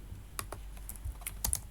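Quick, light keystrokes on a computer keyboard while entering HTML placeholder text, an irregular run of soft close clicks in a quiet room.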